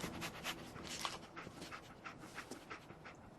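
Dogmeat, the dog companion in a video game, panting in quick, rhythmic breaths close by, with small soft whimpers mixed in.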